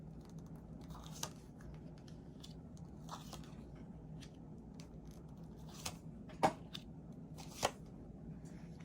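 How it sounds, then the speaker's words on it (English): A tarot deck being cut and shuffled at a reading table, soft faint card riffles and taps with a few sharper clicks near the end, alone without speech. "let me cut this deck for us"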